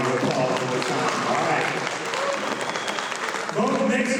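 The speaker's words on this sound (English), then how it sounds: "Round of applause for the time." A high school student council audience applauds, dense clapping and a few cheers at full volume, with a voice starting to talk over the clapping near the end.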